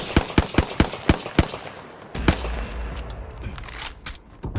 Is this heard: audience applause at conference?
no